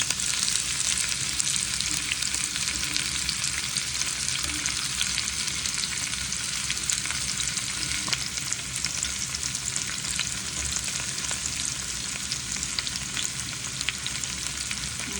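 Onions fry and caramelise in oil in a pan, giving a steady, close sizzle with fine crackling that stays even throughout, with no voices.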